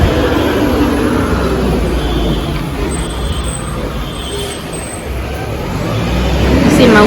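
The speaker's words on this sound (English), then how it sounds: "Oh Lord, they got the fire trucks." Fire trucks and heavy road traffic passing below an apartment balcony, a loud continuous roar of engines and rumbling vehicles with a faint high siren-like tone, with people talking nearby.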